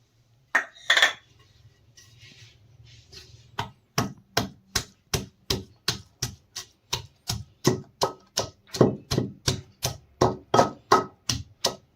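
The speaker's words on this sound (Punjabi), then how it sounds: "ਆਪਾਂ ਲਸਣ ਅਦਰਕ ਨੂੰ ਵੀ ਕੁੰਡੇ 'ਚ ਕੁੱਟ ਲੈਣਾ ਵਾ" Garlic and ginger pounded in a mortar for a red chilli pickle: after a couple of early knocks and a quiet gap, a long run of about twenty sharp, evenly spaced thuds beats out a steady rhythm close by.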